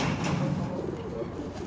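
Pigeons on a rooftop give soft, low cooing close by, under a wash of outdoor noise.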